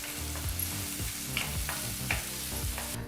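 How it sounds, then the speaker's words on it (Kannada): Finely chopped onion frying over a medium flame, a steady close sizzle with occasional stirring scrapes, no voices. "ಹೀಗಿಲ್ಲಿ ಈರುಳ್ಳಿನ 2 ರಿಂದ 3 ನಿಮಿಷ ಚೆನ್ನಾಗಿ ಫ್ರೈ ಮಾಡಾಯಿತು"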